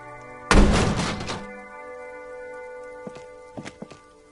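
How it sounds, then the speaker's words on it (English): A mail collection box kicked in a video game gives one loud hollow thunk with a ringing tail that fades over about a second, followed by a few faint scattered knocks against a steady low hum. "There is a hollow ring as you kick the box. It sounds like it's mostly empty."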